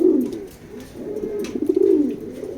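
A male pigeon of a foreign racing line, held in a loft, coos in close, loud, repeated rolling phrases that swell and dip across the stretch, with no talk over it.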